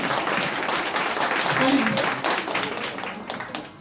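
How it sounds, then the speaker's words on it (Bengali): An indoor audience at a workplace farewell gathering claps for an additional manager. The applause is a dense, steady patter of many hands, with voices talking through it. "একটু হাততালি দেবেন ভাই, অ্যাডিশনাল ম্যানেজার হিসেবে।"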